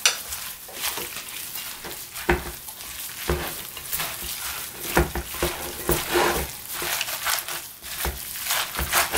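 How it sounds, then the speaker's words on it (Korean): Sliced carrot, onion and pepper leaves mixed by hand in a bowl for kimchi, a quiet irregular run of wet rustling and squelching sounds with occasional light knocks, no talking. "이거를 이제 섞어주겠습니다."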